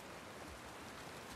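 Rain falls steadily in The Last of Us Part II, set in Seattle, a faint, even hiss of drops on surfaces with no other sounds.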